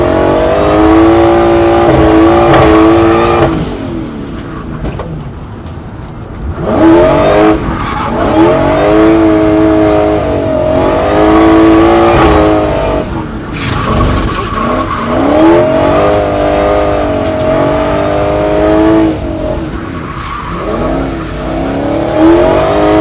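A supercharged V8 drift truck drifting on a large road course revs loud and high, its pitch sweeping up and down as it shifts and accelerates, with tire squeal and brief drops in between.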